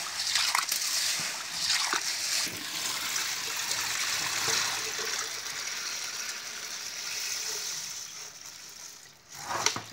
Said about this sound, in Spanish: Aquí ya se está lavando el fréjol de palo.